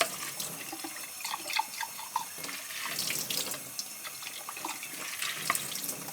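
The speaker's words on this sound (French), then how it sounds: "Je vais mettre un petit peu d'eau pour sortir toutes les graines de dedans" Water from a tap runs and splashes into a container to rinse sprouting seeds, a steady close gurgling and spattering flow with small drips and bursts of splashing throughout.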